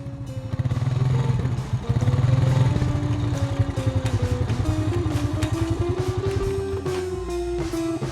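Small engines buzz loudly and continuously, close by, in a race of mini motorbikes, with a rapid pulsing putter and pitch that rises steadily as they speed up.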